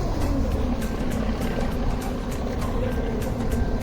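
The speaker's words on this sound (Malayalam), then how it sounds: "അതവിടെ ഹൗസ് ബോട്ടൊക്കെ പോയിക്കൊണ്ടിരിക്കുകയാണ്" A houseboat on the Alappuzha backwaters passes with a steady, loud engine drone and rumbling hum that holds unchanged throughout, with no voices over it.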